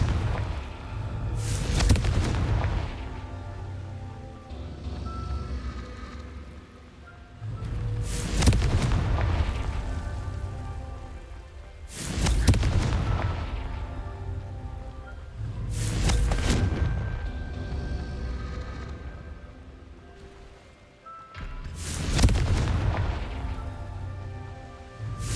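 Repeated Confringo blasting-curse explosions in the video game Hogwarts Legacy, five loud booming blasts spaced a few seconds apart, each with a sharp crack that rolls into a rumbling decay, with game music and ambience humming between them.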